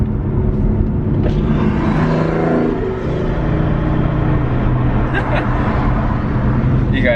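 A BMW F80 M3 tuned with Bootmod3 Stage 2 cruising on a Florida road, its engine a steady, loud, close rumble throughout, swelling slightly as it pulls, with no break in the drone.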